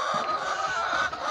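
Chickens on an egg farm cluck and squawk in a busy, overlapping chorus, a dense steady flock sound heard close by with no talking.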